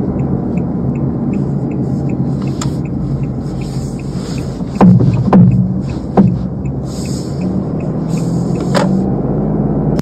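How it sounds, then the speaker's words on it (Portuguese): Sharp, scattered clicks from outside a Fiat Pulse as it steers right, a few isolated snaps and a brief cluster midway, set over a steady low road and engine rumble. "eu estava ouvindo com maior frequência um estalo do lado de fora do carro ao esterçar para a direita"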